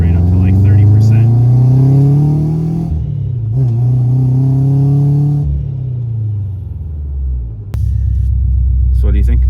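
A modified Subaru FRS sports car making over 300 wheel horsepower revs hard and close, its engine note climbing and falling in loud sweeps, then settling into a deep rumbling idle, with people talking over it.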